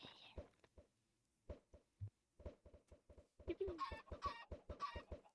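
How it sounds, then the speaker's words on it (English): Chickens clucking in a Minecraft-style video game, a quiet series of short, evenly repeated clucks and chirps that grow busier toward the end. "All the baby chickens."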